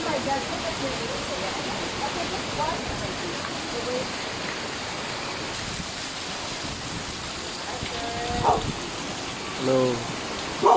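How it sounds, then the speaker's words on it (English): Steady rain falls at a resort on Guimaras Island in the Philippines, a continuous dense hiss of drops with a few faint voices and brief bumps near the end. "Here comes the rain again."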